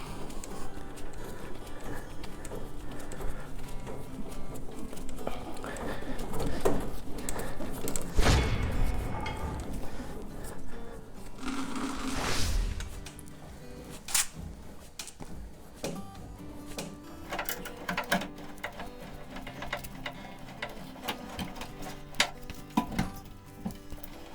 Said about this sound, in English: with your wrench reversed, you're ready to start retrieving the cable back up